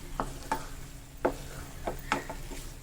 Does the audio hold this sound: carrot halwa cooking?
yes